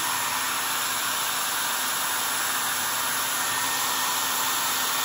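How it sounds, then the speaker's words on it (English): A hair dryer blowing on high heat, held close, producing a steady, loud, even whoosh with a constant motor whine and no changes throughout. "Okay, so I got my hairdryer here, and I've got it set on the high heat. I'm gonna turn it on, let it heat up."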